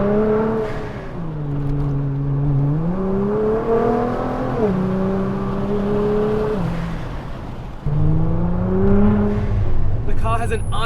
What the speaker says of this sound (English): The car has an Army-Trix exhaust, and it sounds absolutely glorious